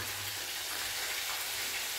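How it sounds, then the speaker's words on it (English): Festival dough sizzles quietly in a frying pan, a soft, steady crackling hiss with no talking. "I'm gonna start frying my festival"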